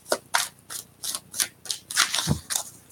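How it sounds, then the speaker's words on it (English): A Vision Quest tarot deck riffled by hand in a few quick shuffles, each a short crisp burst of fluttering cards at close range, about eight bursts in a loose rhythm with no talk. "Do a final couple shuffles for you."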